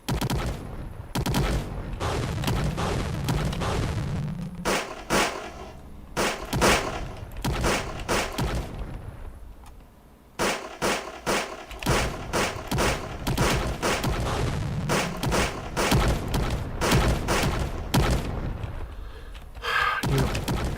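Units in a video game exchange heavy gunfire in dense bursts and rapid volleys, loud and close, with two brief lulls between the barrages and no voices.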